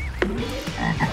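American bullfrog croaking at a frog pond, one deep, close, loud croak with a resonant drawn-out tone, heard alone.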